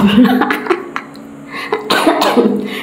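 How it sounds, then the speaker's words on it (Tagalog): A person coughs several times in harsh bursts, near and loud. Breathing and throat sounds fill the gaps between. "ubo pa rin ako"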